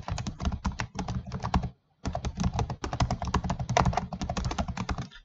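Text typed in Microsoft Word on a computer keyboard: quick, fairly close key clicks in steady runs, broken by one brief pause, with no talk.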